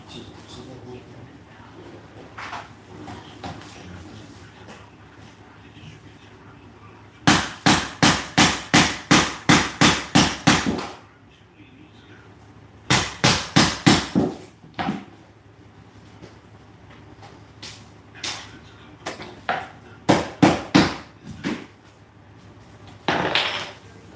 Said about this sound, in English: Chisel.